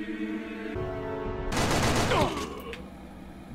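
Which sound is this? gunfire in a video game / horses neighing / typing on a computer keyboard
gunfire in a video game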